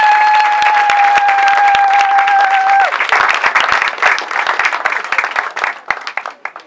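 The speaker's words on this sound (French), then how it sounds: "On va applaudir" Guests at a customary wedding break into loud, dense applause after a held tone fades, clapping continuing steadily and close for several seconds before tapering off at the end.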